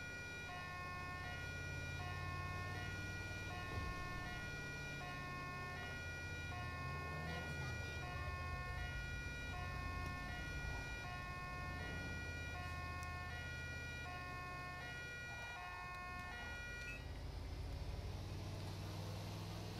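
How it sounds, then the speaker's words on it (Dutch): An ambulance siren in the video game GTA 5 wails in a steady repeating two-tone pattern over a low engine hum, then cuts off near the end. "We zetten alvast een sirene uit,"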